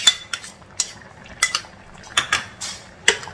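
A spoon scraping and clinking against a metal pot while fresh cream is stirred into a soybean gravy, sharp irregular knocks and scrapes close by over a quiet background, with no voices.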